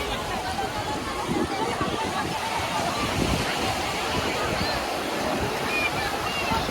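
Ocean surf washing continuously along Juhu Beach in Mumbai, a steady broad roar of waves breaking and churning at close range, with distant crowd babble from bathers mixed faintly underneath.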